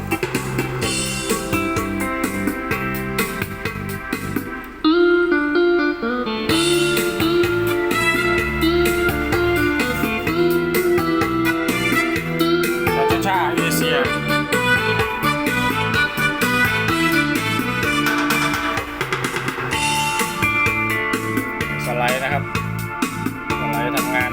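A Roland EA7 electronic arranger keyboard plays a full accompaniment with bass, chords and melody, loud and continuous, with a brief drop-out near the start.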